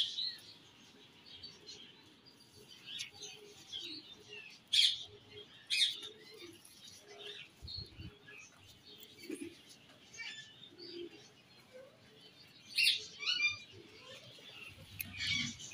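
Pigeons chirp and call intermittently in the background, with a few louder, sharper calls standing out over a steady, soft ambient bed; no talking.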